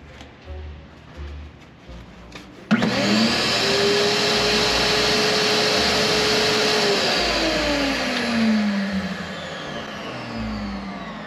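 A 6.5 HP shop vacuum switches on abruptly after a few seconds of quiet rustling, then roars loud and steady close by, its motor pitch sagging and recovering as it pulls air through a hose set up for sucking out rats.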